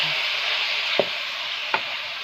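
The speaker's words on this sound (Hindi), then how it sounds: "सब्जियां सारे के सारे इसमें डाल दें और चम्मच हिलाते रहें" Mixed chopped vegetables for Chinese rice stir-fried in a pan with a spoon: a constant bright sizzle broken by two sharp clinks of the spoon against the pan, close and clear with no talking.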